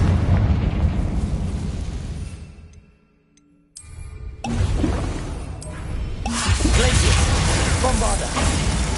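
A Confringo blasting spell in the Hogwarts Legacy video game bursts with a loud whooshing explosion that rumbles and fades to near silence, followed by more heavy blasts and crackling combat noise.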